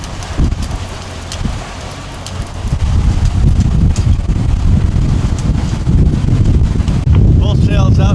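Wind buffets a sailboat under way with full sails, a loud continuous rumbling roar across the microphone with gusty swells, and a person speaks briefly near the end.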